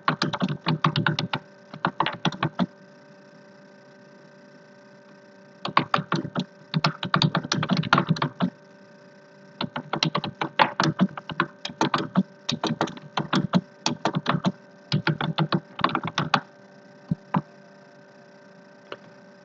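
Bursts of brisk typing on a computer keyboard, clicking keys close up in several runs separated by short pauses, over a faint steady hum.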